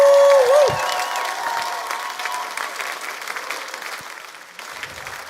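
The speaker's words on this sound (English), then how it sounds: "Let's give him another round of applause." An audience applauds at a session, with dense, sustained clapping from a sizable crowd after a brief whoop. The ovation stays steady and fairly loud, then tapers slightly toward the end.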